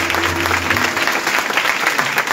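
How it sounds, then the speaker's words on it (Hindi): A church congregation claps for a pastor at a live gathering in Rawalpindi, a dense, loud burst of many hands with a brief low tone underneath at the start. "तालियां आरिफ के लिए जोरदार"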